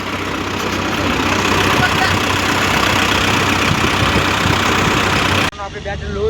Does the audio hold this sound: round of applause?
no